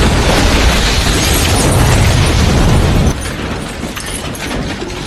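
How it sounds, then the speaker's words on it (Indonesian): A bomb planted in a meeting room detonates in the 2007 film War, a loud, sustained roaring blast with rumbling debris that drops to a lower but continuing din partway through. "meledakkan bom yang sebelumnya sudah dipasangnya di ruangan"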